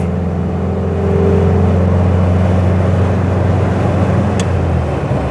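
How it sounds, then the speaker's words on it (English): A car engine idles with a steady low rumble and strong low-pitched harmonics, running smoothly and close by without revving, in a classic Citroën-style car with a column gear change. "It's not an engine that really wants to rev."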